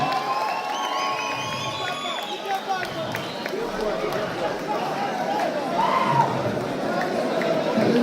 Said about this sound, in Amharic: ጭብጨባ